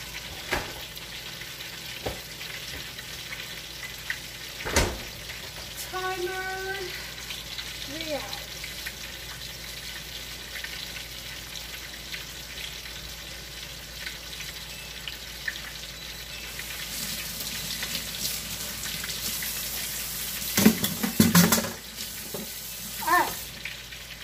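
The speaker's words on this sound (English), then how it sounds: "Now we're frying these up." Steady sizzling of chicken frying in oil runs throughout, close and moderate, with occasional clinks, stirring noises and brief voices.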